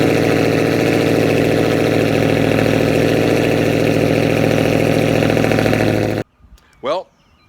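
Dodge Hellcat V8 with a loud, steady idle right after firing up, a dense rumble that stops abruptly near the end, followed by a brief voice and a short sharp noise.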